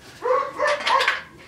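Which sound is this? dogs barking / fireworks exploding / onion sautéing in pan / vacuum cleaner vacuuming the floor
dogs barking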